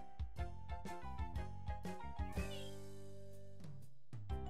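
A pet cat named Elohim meows repeatedly indoors, a run of short, close, tonal calls in an uneven rhythm, with a longer drawn-out meow in the middle and nothing else underneath.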